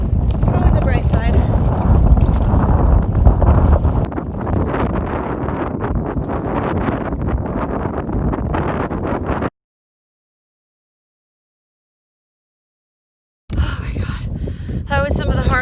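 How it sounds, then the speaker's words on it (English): Strong wind buffets the microphone on a lake during a solo wilderness canoe trip in Temagami, a loud continuous roar with gusts, cutting to silence for several seconds before the blustery noise returns. "the wind is blowing this way, so it'll just blow me to the other campsite."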